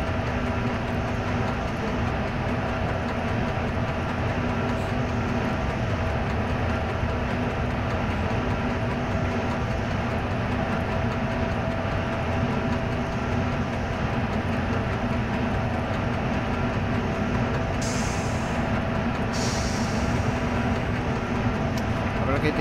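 The Talgo Torre del Oro train rolls downhill in Railworks Train Simulator with a steady, continuous rumble and rail noise that barely changes, heard up close while a person talks over it.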